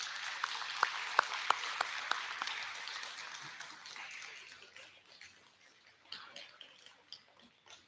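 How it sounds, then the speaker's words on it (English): A school assembly audience at a 6th grade awards ceremony claps in a moderate, fading round of applause, with a few sharper individual claps standing out early before it thins to scattered claps. "So can we give them another round of applause?"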